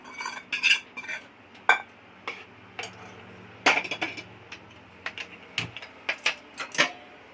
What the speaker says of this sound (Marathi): ह्या आळणी पाण्यामध्ये टाकूया.